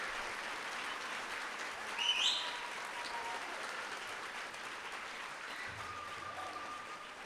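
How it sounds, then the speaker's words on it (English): Applause at a medical school White Coat Ceremony for the class of 2030 in Great Falls, Montana, a soft, steady wash of clapping from a distant audience, continuous throughout. "Let's give them another big round of applause."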